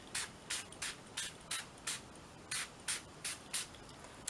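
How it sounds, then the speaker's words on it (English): A hand spray bottle mists onto mixed media paper in about eleven quick, evenly spaced hissing bursts, close and fairly quiet, with no talking. "I'm going to spray it again,"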